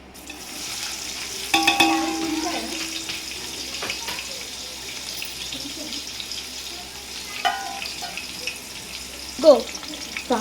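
Chopped onion is tossed into hot oil with mustard seeds and urad dal for upma, sizzling and frying in a pan with stirring and a few clinks of the spoon against the metal.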